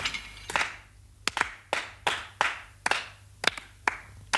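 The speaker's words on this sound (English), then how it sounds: "thank you for that smattering of applause from the audience of 5 people plus the stage crew" A small studio audience of a few people plus stage crew clapping sparsely, with a dozen or so distinct, unsynchronised claps spread irregularly and sounding close and thin.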